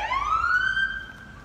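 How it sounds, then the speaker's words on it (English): A police car siren wails close behind on a street, a single loud rising sweep that levels off and begins to fade. "I hear another siren right behind me."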